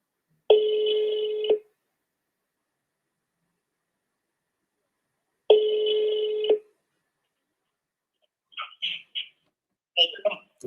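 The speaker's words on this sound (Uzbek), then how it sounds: "Ya bir telefon geldi" A telephone rings in two clear, separate bursts a few seconds apart. A short pause follows, then a person starts talking nearby.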